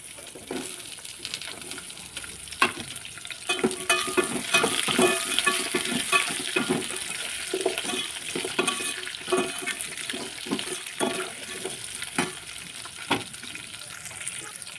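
Carrots and beans tossed in with fried onions in a pan give a steady sizzle, broken by repeated scraping and clanking of a spoon against the metal while the vegetables are stirred.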